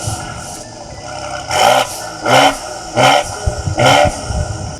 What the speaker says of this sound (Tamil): ரெவ் பண்ணுங்க.